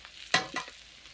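Food frying in a pan over a clay stove, a low sizzle broken by two short, close stirring scrapes.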